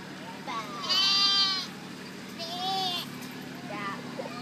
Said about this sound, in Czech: To je ta ovce